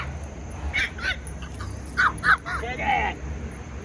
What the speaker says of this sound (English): I'm not a big fan of little dogs that be barking like that.